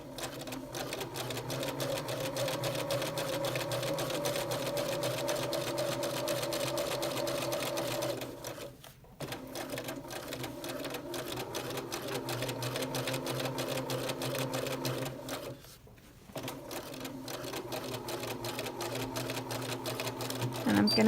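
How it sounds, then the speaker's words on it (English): A sewing machine stitches a skirt placket in long steady runs of rapid rhythmic needle chatter, close and even, briefly pausing twice before resuming to the end of the seam. "And then I'm just going to keep stitching"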